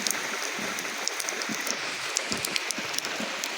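Rain falls steadily in a soft, even hiss, with scattered sharper patters of drops striking a surface throughout.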